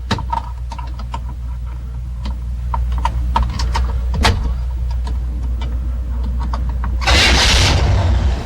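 A General Motors car started through its steering-column ignition after a steady idle-like rumble, then a sudden louder roar of the engine catching near the end, close and heavy.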